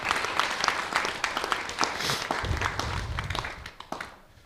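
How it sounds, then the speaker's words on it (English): Applause from a gathering at an ISKCON Hindu temple, many hands clapping steadily in a reverberant hall for several seconds before fading out at the end. "So let's give them a big round of applause."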